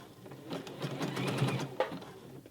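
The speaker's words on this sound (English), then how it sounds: "Let me do some back stitch here" A sewing machine runs a short back stitch on a fabric scrunchie, a quick burst of rapid mechanical whirring and needle clatter at close range, with a small knock near the end and no talk.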